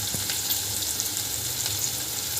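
Spices sizzling and roasting in a hot pan for Maharashtrian dahi chicken, with salt, turmeric, coriander and cumin powder in the mix; a steady, even frying hiss with faint scraping, no voices.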